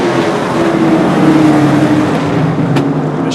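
Short-track race cars accelerate together on a 2015 super short track circuit, a steady loud engine roar with a rising harmonic drone that holds throughout, with no talk.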